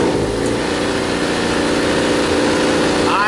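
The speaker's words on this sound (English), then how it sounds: "I hear a motor running." The engine of a Viking 130 aircraft runs steadily on its first start, a loud continuous drone with an even low throb throughout and no voices.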